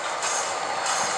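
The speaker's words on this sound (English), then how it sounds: "I like to run a few trains in here" A model train rolls along a layout beside its yard, a steady close rumbling clatter with a hissy high-pitched whir that swells partway through and carries on without a break.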